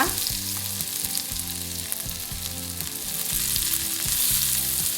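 Half a cup of coconut fries in two spoons of oil with a loud, steady, close-up sizzle. A rhythmic backing music track plays underneath the whole time.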